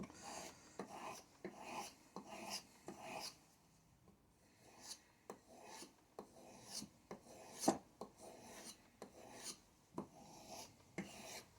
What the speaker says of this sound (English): Let's quickly strop it though.